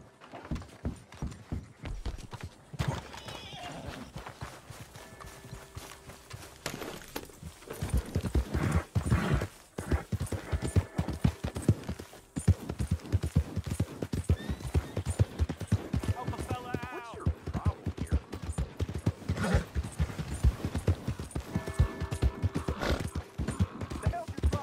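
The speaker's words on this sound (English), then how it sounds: "Now that's a well-bred horse you got there." Horse hooves clip-clop steadily in Red Dead Redemption, joined by occasional neighs and whinnies, with voices talking over the hoofbeats throughout.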